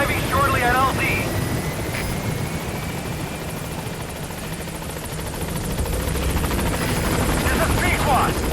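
Pequod, the Metal Gear Solid 5 helicopter, arrives at a landing zone with a loud, continuous rotor roar and thrum. Brief radio chatter breaks in near the start and the end.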